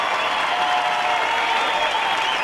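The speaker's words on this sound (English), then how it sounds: "And generous applause from the home crowd for their boy" Generous applause from a home crowd at a diving final of the 2013 FINA World Championships in Barcelona, a dense, steady wash of clapping that fills the whole moment at full volume.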